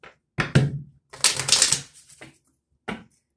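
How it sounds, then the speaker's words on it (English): Tarot cards are riffled and shuffled in a few quick, crisp bursts with short pauses between them, close and clear with no talking. "One more shuffle."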